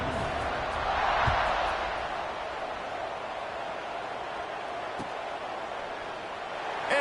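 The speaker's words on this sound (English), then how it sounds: "this crowd is buzzing after that last score" A football stadium crowd keeps up a broad, steady buzz after a score, with a louder roar swelling around the first second and a sharp thud or two over the continuous wash of noise.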